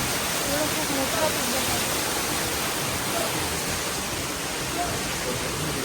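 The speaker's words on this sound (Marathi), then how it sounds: "इकडे मस्त मोठं मोठा धबधबा पण लागला" A large monsoon waterfall near Ekvira temple roars as a steady, dense broadband rush of falling water in the rain, loud and unbroken throughout.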